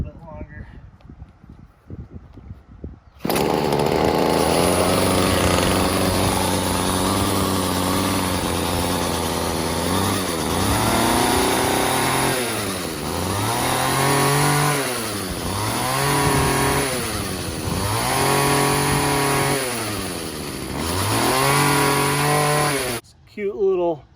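A chainsaw engine starts abruptly and runs loud and close, idling and then revving in repeated rising and falling surges before cutting off near the end.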